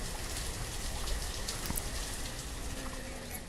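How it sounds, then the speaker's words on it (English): Rain in the village-building game Banished falls as a steady, even hiss of drops with no breaks, alone and fairly soft. "We got some rain coming in."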